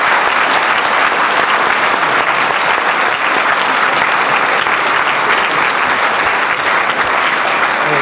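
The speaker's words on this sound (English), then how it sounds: "can we just have another round of applause for Ali?" Another round of audience applause for a speaker, a continuous, even wash of many hands clapping with no pauses.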